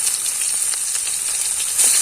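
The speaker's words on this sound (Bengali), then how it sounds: "পেঁয়াজটা একটু ভেজে নেব।" Chopped onion sizzling in hot oil with cumin seeds and dried chilli for a fish curry, a steady bright crackling hiss up close, slightly louder at the end.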